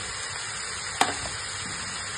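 Carrots and capsicum sizzling steadily in a pan for fried rice, an even hiss with one sharp knock of a utensil partway through, no talk.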